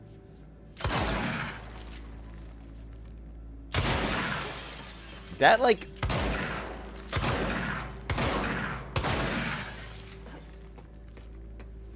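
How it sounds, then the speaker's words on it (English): In the video game Control, gunshots ring out in loud bursts, each one shattering a nearby object with crashing, breaking debris. A short bit of speech comes in between the blasts. "What if I shoot it?"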